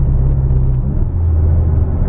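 A Mitsubishi Evo X fitted with a new turbo drones loudly from inside the car, a steady low engine rumble that shifts slightly in pitch while cruising, with no talking.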